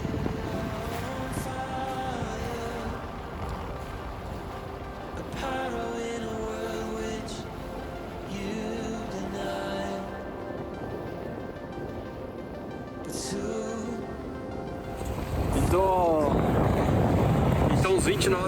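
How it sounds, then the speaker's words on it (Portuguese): A strong wind of around 20 knots buffets a sailboat on the Lagoa dos Patos. Steady roaring gusts fill the whole stretch and swell louder toward the end. "O vento apertou um pouco chegando mais perto. Chegou de novo nos 20 nós"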